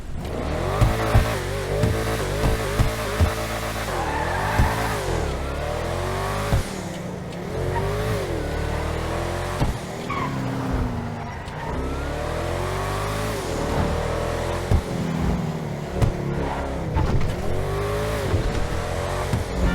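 A Pfister Astron Custom sports car engine in GTA Online roars and revs continuously, shifting pitch up and down as it accelerates and brakes, with occasional tire squeal, loud and close throughout.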